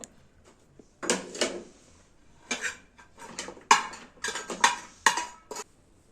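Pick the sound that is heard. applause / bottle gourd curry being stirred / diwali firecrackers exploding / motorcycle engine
bottle gourd curry being stirred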